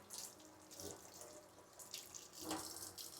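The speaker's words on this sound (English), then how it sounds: "just gonna rinse all this stuff off from the sticky fruit juices" A kitchen faucet runs steadily while sticky fruit juices are rinsed off. The water hisses continuously and close, rising into a louder splash near the end.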